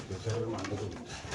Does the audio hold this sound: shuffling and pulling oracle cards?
no